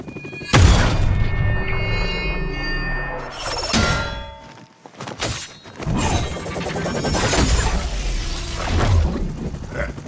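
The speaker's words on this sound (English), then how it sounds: "That explosion just shorted out half our systems." Explosions in the video game Marvel's Midnight Suns erupt as several loud, sharp blasts followed by crashing, shattering debris, interspersed with tonal game effects and brief quieter gaps.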